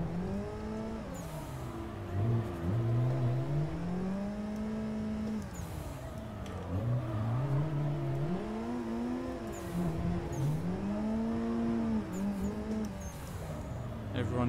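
Car engine in the Assetto Corsa driving game, revving up and down repeatedly while drifting on a mountain road, with rising and falling pitch swings and occasional tire noise, fairly loud and continuous under a talking voice.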